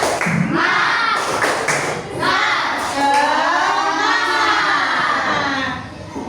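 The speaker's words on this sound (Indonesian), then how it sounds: "Tepuk semangat" A classroom of children performs a rhythmic spirit clap, with sharp claps and thumps followed by a crowd of young voices chanting and shouting together, loud and close.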